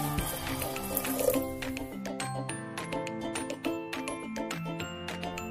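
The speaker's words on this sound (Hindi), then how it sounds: "1 गिलास पानी ऐड कर देती हूँ" A glass of water is poured into soaked chickpeas seasoned with salt and turmeric for Delhi-style chole, a steady close splashing pour running several seconds with no talk.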